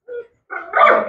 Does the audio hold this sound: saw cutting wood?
no